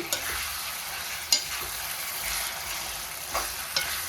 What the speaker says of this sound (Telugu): కడిగి పెట్టుకున్న చికెన్ వేసుకొని బాగా కలుపుకోవాలి